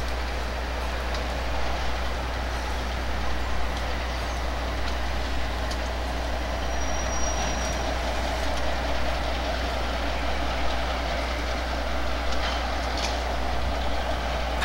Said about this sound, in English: And then just pick up speed and head off